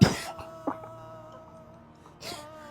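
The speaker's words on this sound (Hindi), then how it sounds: "खांसी नहीं आएगी, पानी पीजिए" A person coughs hoarsely, one sharp cough at the start, a smaller one shortly after and another near the end, close up in a quiet room with a faint steady hum behind.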